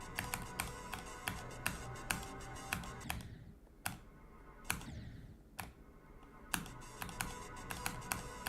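Steady typing on a computer keyboard, close and crisp, with sharp individual clacks at an uneven pace and a brief pause midway, over a soft background hum.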